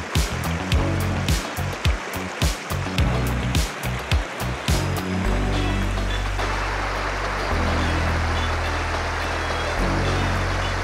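A clean river running beside a resort in Malaybalay, Bukidnon, rushes in a steady broadband wash close by, with thumping bumps of handling in the first half before the flow settles into an even roar.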